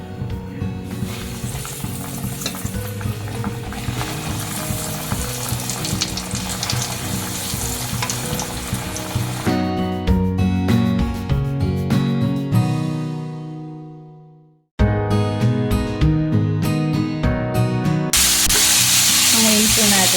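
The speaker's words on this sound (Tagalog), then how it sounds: "nagpapainit na po ako ng mantika para i-fried na natin siya" Breaded chicken pieces deep-fry in hot oil for crispy chicken, making a loud, dense, continuous sizzle that briefly fades to silence before bursting back at full strength.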